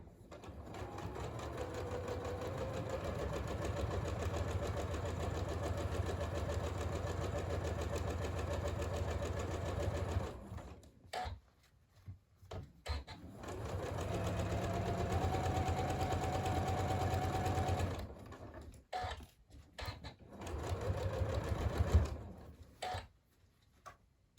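A sewing machine stitches a fabric Christmas cracker in two long, steady runs, with short pauses and small clicks between them as the stitches are reinforced at the end.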